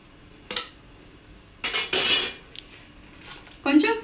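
Metal spoon clinking and scraping against a pot while layering Hyderabadi dum biryani with fried onions and ghee, a few short separate clatters and one longer scrape, close and fairly loud, with no talking.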